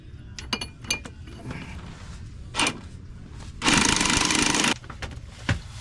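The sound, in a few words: impact wrench tightening driveshaft nut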